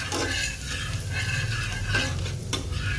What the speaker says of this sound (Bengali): রসুন কুচোটা ভালো করে বাটারের সাথে কিন্তু ভেজে নেবে।